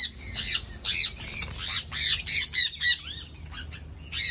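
Newly added birds squawking inside a cage, a close, loud series of harsh repeated calls in quick irregular bursts with brief gaps, no voices present.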